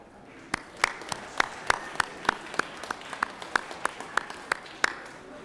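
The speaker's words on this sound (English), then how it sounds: "give you a round of applause" Sparse, sharp hand claps ring out in the Georgia Senate chamber as visitors from Habersham County are recognised, a quiet scattered round with a low room murmur behind it.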